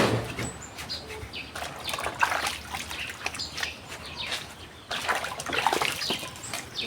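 Farm-bought sweet potatoes are scrubbed in water, with splashing, trickling and sloshing in irregular bursts close by, outdoors in an African village with faint birds in the background.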